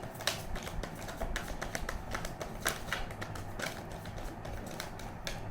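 Tarot cards shuffled by hand in a quick run of soft, papery riffling clicks, faint and close, with no talking over it.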